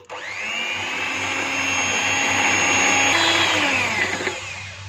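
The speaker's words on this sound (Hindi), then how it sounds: "2 मिनट तक अच्छे से बीट कर लेंगे।" Electric hand beater whipping cake batter with yogurt and vanilla essence, a loud steady motor whine with a rising pitch, running nonstop up close before slowing near the end.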